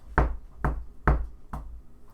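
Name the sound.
knocking on a wall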